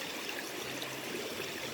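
A river flows where many people wash clothes, a steady rushing and trickling of water heard close and continuous, with no talk over it.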